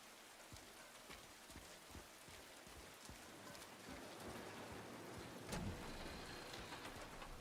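Rain in the video game Silent Hill 2 falls as a faint, steady hiss with scattered drop ticks, swelling slightly toward the end, with no one speaking.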